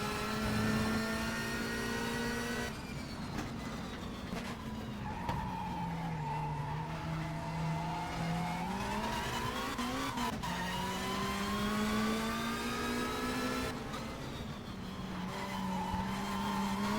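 Race car in the Race 07 sim at Brands Hatch Indy, 1992 BTCC touring car, braking hard with locked wheels; a steady close engine drone bends down and up as a tire skid squeals through the run, with no talk.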